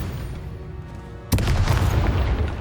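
A spell impact from the Hogwarts Legacy video game lands as a single sudden booming burst, followed by a dense, loud rumbling wash that keeps going after a quieter ambient stretch.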